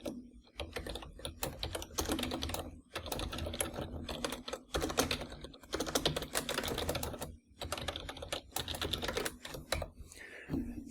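Brisk typing of programming code on a computer keyboard, rapid clustered keystrokes in bursts with brief pauses, close and clear.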